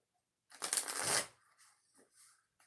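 A brisk burst of tarot cards being shuffled, close and crisp, followed by a few softer card taps and slides.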